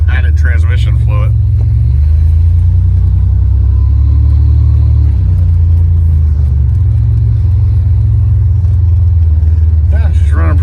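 A Buick Grand National with a freshly installed engine rumbles along on its first drive, a loud, low, steady engine drone rising and easing slightly, with brief talk at the start and end.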